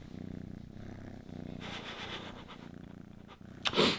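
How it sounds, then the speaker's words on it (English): A cat purrs close up in a steady rhythmic rumble of pulses, followed at the end by a brief rustle or sharp noise. "she's a little purr machine"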